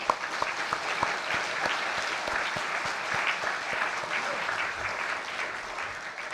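During a Korean church's Sunday worship, the congregation applauds its teachers with strong, continuous clapping that fills the room for over six seconds. A few sharper claps stand out near the front.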